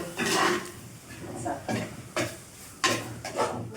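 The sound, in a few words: stirring stingray liver masala in a pan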